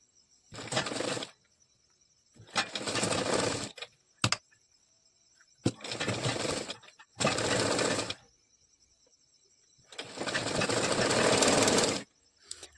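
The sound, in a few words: sewing machine stitching a puff princess-cut blouse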